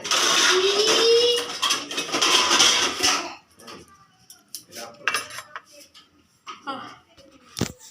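Tea poured and served into cups and glasses, a loud rushing pour for about three seconds followed by scattered clinks and knocks of cups and dishes, with soft voices in the background.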